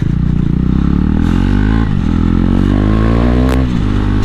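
Loud, close exhaust note of a KTM Duke 390 motorcycle revving, its engine pitch climbing and dropping through several throttle blips with a rough, throaty drone and no talk.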